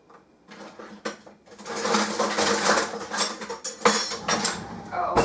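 Cocoa and other baking ingredients being mixed in a bowl for a home bake, with clinking and scraping of utensil against the bowl, busy and fairly loud across most of the stretch after a quieter start.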